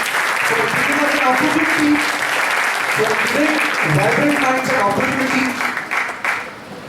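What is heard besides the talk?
audience applause for the group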